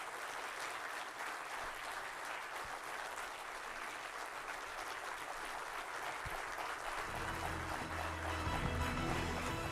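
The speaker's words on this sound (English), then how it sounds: "Dear audience, please welcome Natarajan Chandrasekaran with a big round of applause." Audience applause at a business association's diamond jubilee event, sustained clapping from a large crowd at moderate distance, swelling slightly louder near the end with some low murmuring.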